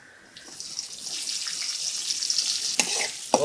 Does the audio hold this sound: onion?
yes